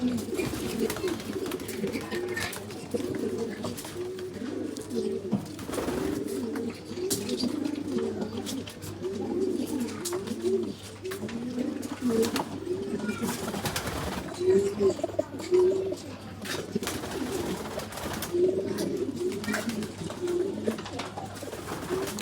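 Pigeons coo close by in repeated soft, throaty bursts at a fairly steady rhythm over a low background hum.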